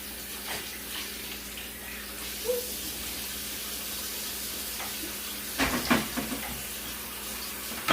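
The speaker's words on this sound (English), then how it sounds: "we're just going to open them up and give them a good rinse" Baby back ribs rinsed under a kitchen sink tap, a steady hiss of running water throughout with a few soft splashes and handling noises near the end.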